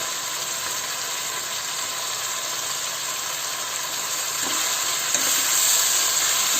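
Spinach hits a hot pan of local chicken, cooked without spices, and sets off a loud, steady sizzle and hiss that runs unbroken throughout and swells slightly near the end. No voices.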